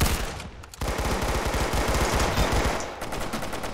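Rapid gunfire in a video game match as a shotgun and other weapons fire, dense repeated loud shots in quick bursts with a brief pause near the start.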